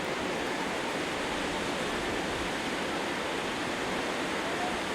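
Fast-flowing water of the upper Manas River rushes in a steady, loud, unbroken roar that fills the whole moment with no voices.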